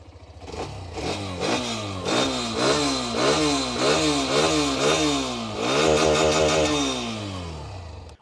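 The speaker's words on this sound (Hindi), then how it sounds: "पहले सुनते हैं एग्जॉस्ट नोट इस हीरो की एक्सट्रीम 125R का" A Hero Xtreme 125R motorcycle's exhaust rises and falls through a series of quick throttle revs, then one longer, higher rev near the end, loud and close with no talking.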